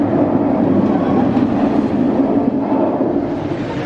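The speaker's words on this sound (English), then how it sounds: "I have heard a test train going round. In fact, there's one just up there with a few members of staff on it" The Nemesis roller coaster test train runs at Alton Towers, a loud, continuous rumbling roar of wheels on track that holds steady the whole time, with no talking.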